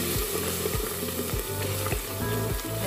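Garam masala spice paste fries in a pan for an aloo matar curry, giving a steady close sizzle with scattered crackles, broken by a few soft knocks of a spoon or pot.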